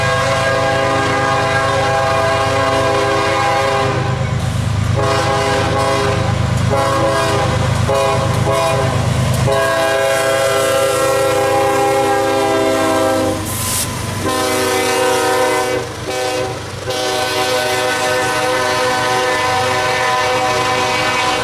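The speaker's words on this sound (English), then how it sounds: "Number 2 track, number 1 track, locomotive 5291 northbound." A northbound mainline freight train led by locomotive 5291 rolls past near Dillon, South Carolina, its horn blaring in long sustained blasts over a heavy, continuous rumble of passing cars, loud and close throughout.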